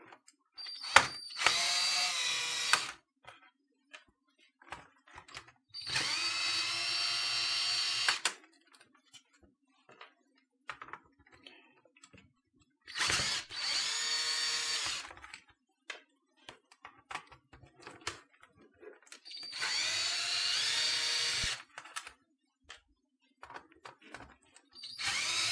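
A power drill removes screws from a computer keyboard in short whirring bursts of about two seconds each. Four or five runs are separated by quiet pauses with faint clicks and handling.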